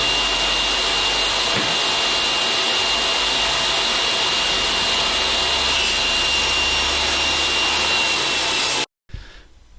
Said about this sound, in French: j'ai commencé à couper mes panneaux approximativement à la longueur